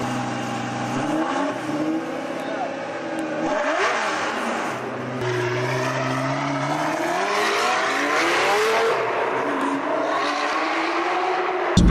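A Lamborghini Gallardo V10 with a Tubi exhaust revs repeatedly, its raw, screaming note climbing and falling in several throttle blips, loud and close.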